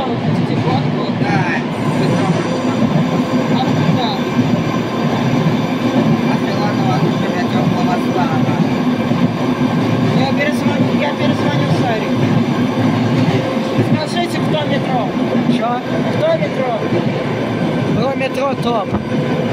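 Steady rumble and rattle of a subway train in motion, a continuous dense roar with faint voices mixed in.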